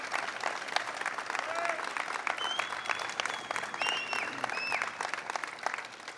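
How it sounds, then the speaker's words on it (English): Sustained clapping from a large crowd at a governor's bill-signing event fills the space evenly, a steady wash of hands with a few whistles and voices mixed in. "Let's give him another round of applause."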